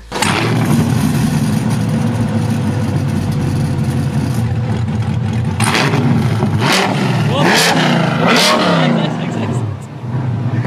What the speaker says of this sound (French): Je fais le petit soundcheck, Alex va se mettre juste derrière au niveau des sorties d'échappement